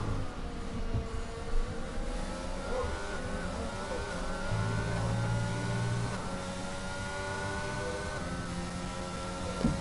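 Formula 1 racing car engines from the F1 2022 video game, Mercedes cars battling in Bahrain, drone on steadily with several overlapping engine tones sliding up and down in pitch through the whole stretch.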